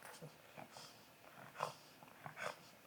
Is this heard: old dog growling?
yes